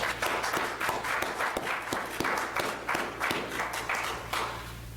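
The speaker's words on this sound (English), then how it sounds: "Please help me congratulate Madison through a round of applause" An audience at a military graduation ceremony applauds in a steady, sustained round of clapping that fills the room, with individual claps audible throughout.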